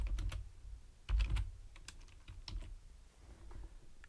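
Quick, soft clicks of a computer keyboard as a word is typed into a design app, a light irregular patter of keystrokes close by and quiet, with no talking.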